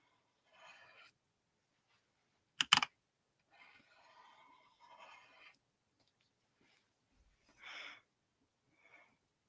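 A mechanical computer keyboard is typed on in short, quiet bursts of clacking keys separated by pauses, with one louder sharp clatter near the start.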